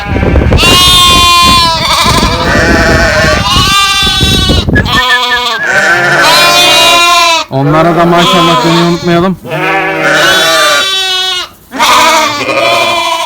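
Sheep and lambs bleat repeatedly in a barn, loud overlapping cries close by, with someone speaking over them partway through.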